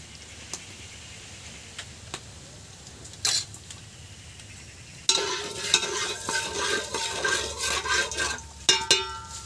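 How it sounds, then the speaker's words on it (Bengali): Salt dropped into hot oil in a pan while cooking chicken biryani: faint scattered clicks and taps give way midway to a louder, steady sizzle with scraping stirring sounds, close and without talk. "এবার এই তেলের মধ্যে নুন দিয়ে দিচ্ছি"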